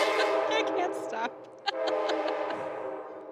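An Amtrak train passes nearby, its horn blaring in loud sustained blasts over the rumble of the rail cars, with a brief clank partway through and the noise continuing afterward.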